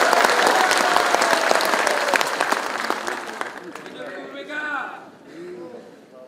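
Strong applause from a political party audience during a politician's speech, loud dense clapping that gradually fades out, followed by a speaking voice and crowd murmur.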